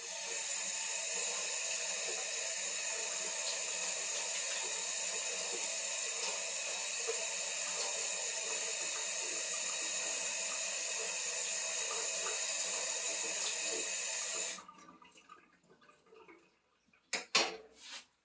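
Running water rinses microgreens trays under a tap in a steady, close hiss for about fifteen seconds, then stops, leaving a few faint clinks and knocks.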